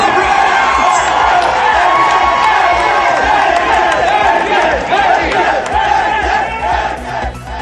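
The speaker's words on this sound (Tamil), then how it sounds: "பரிசளிப்பு விழாவில் ஏகே என ரசிகர்கள் ஆரவாரம்." Fans at an award ceremony for actor Ajith Kumar's car racing team roar and shout in a loud, sustained crowd din with chanting cries, steady throughout without pause.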